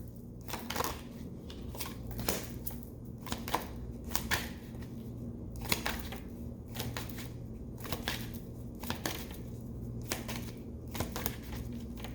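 Tarot cards are shuffled in quick, papery riffles and taps that come in irregular bursts, quiet and close, with no talking over them.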